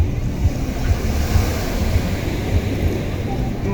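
Cold ocean surf washes onto a small beach in a steady, rushing roar, with gusty wind buffeting the microphone, close and fairly loud, with no clear talk over it.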